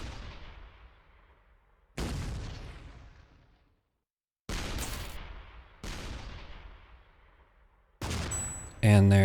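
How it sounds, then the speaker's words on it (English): Heavy weapon shots from the artillery game ShellShock Live ring out one at a time, each a loud booming blast trailing off into a long decaying rumble, with four or five shots spaced a couple of seconds apart. "I'll keep shooting it until I get a crit"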